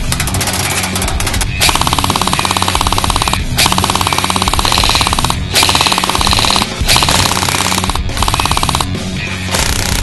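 Sustained bursts of machine gun cover fire rattle loudly and continuously, with brief gaps between rapid volleys, in a game firefight against a huge creature.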